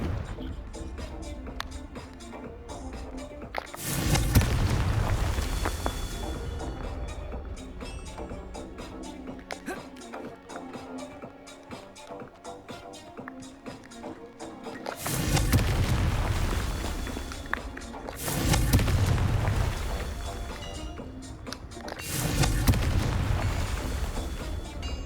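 Confringo spell blasts go off in Hogwarts Legacy, several heavy booming bursts spaced across the stretch, each swelling and fading, with busy game ambience between them.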